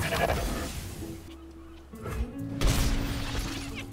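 Mountain goat bleat in the card game Legends of Runeterra, a short nasal bleat over game effects, with a crash-like shatter and a sustained tone mixed in.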